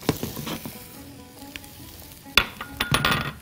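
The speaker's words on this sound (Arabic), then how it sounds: "وادي الزبده بتاعتي، وبعدين بصل وتوم" Onion and garlic frying in melted butter in a pan, a steady close sizzle broken by scattered clinks and knocks of a utensil, with a sharp utensil tap near the middle; no talking.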